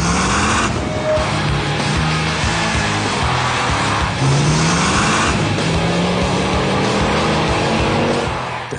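A 1985 Audi Urquattro with an Abt-tuned petrol engine accelerates hard, loud and close, its revs climbing through the gears with brief shift pauses and a sustained rising engine note.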